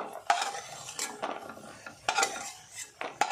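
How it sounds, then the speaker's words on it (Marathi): Roasted cashews get scooped out of a pan, heard as a few short, close scrapes and clinks of a spoon against metal at an uneven pace over a faint background, with no talk. "काजू इथे छान भाजून झालेत, काढून घेऊया।"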